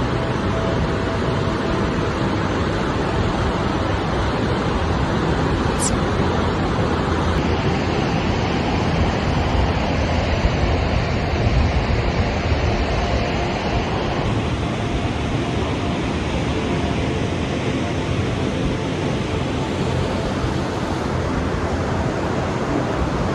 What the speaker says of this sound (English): there is the river that is flowing, and here, just hear the sound of the river